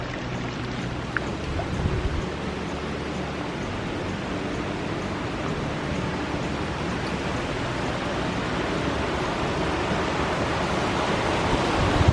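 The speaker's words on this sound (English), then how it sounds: "Here's our raging river." A mountain river on the French Pass trail in Colorado rushes steadily with a broad, constant whoosh of water, close and continuous for over ten seconds without voices.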